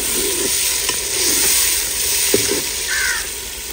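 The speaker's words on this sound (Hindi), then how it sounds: "अब जा रहा है जी पेस्ट खुश्क धनिया और लहसुन का।" Dried coriander and garlic paste frying in a pot, a steady sizzle with faint stirring scrapes and a few clinks, birds cawing in the background of a village setting.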